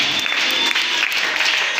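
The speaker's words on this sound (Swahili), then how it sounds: "Makofi mazuri kwa Bwana." A church congregation claps steadily together, a dense, continuous wash of applause close by with no talking over it.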